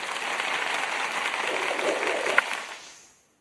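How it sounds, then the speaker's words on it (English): A small crowd applauds a man on his birthday, a steady even patter that holds for a few seconds, peaks briefly, then fades to silence. "Let's give you a little round of applause"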